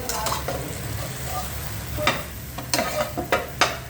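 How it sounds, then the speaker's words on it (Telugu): Brinjal fry sizzles in a pan after spice powder goes in, with steady frying hiss and a series of close scraping stir strokes that grow sharper and more frequent in the second half; no one speaks. "ఇప్పుడు ఈ పొడిని ఇందులో మనం వేసుకోవడం, వేసుకుని ఒక్కసారి కలపాలి."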